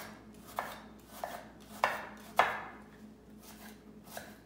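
A knife chops an onion on a board with a steady run of six crisp, close thuds spaced about half a second apart, the middle strokes loudest, over a faint room hum.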